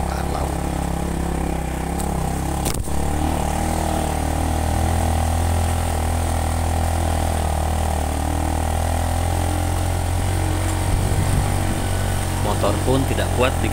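A motorcycle engine labours steadily in first gear while climbing a steep mountain road at about 1800 metres, a constant loud drone that runs throughout with little change.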